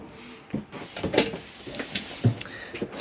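A cutlery drawer slides open in a Bailey Autograph 625 caravan kitchen, giving a few short close knocks and a brief rumbling slide, with scattered clicks of handling around it.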